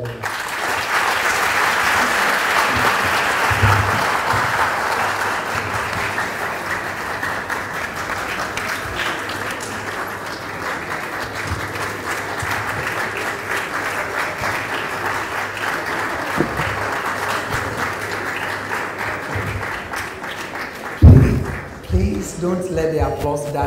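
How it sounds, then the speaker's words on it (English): Sustained applause from a large crowd at the end of a college engineering public lecture, steady and dense for about twenty seconds, fading near the end as a voice briefly cuts in. "Don't let the applause die off."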